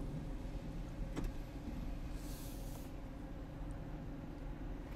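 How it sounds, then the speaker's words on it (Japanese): The motorized left automatic sliding door of a 2020 Nissan Roox Autech runs with a steady low mechanical hum, a single sharp click near the start and a brief hissing swish midway, with no voices. "左側のオートスライドドア"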